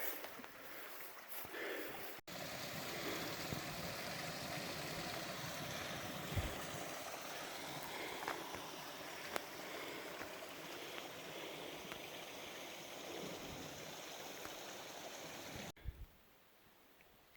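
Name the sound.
creek flowing in a forest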